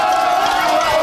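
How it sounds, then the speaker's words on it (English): A noisy crowd fills the stands at a high school girls' softball playoff game in Commerce, Texas, a dense, steady roar of many voices for about a second. "Noisy crowd here at Commerce."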